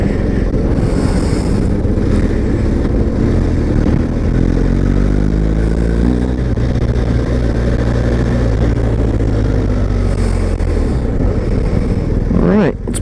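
A 2022 BMW 1200 adventure motorcycle roars along at highway speed, its low engine drone steady and loud under heavy wind buffeting, with pitch sweeps as the rider shifts gears.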